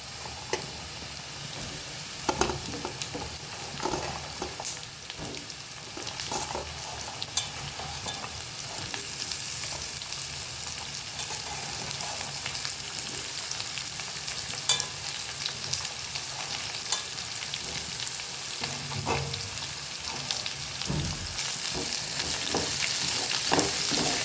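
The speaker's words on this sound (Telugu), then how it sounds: "ఆనియన్ మగ్గిందండి, ఇప్పుడు బీరకాయ వేసేసుకుందాం." Ridge gourd frying with softened onions in a pan, a steady low sizzle with occasional scraping stirs and clinks, close and continuous with no talking.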